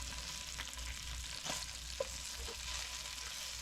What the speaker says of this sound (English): Waiting for the bacon to finish rendering.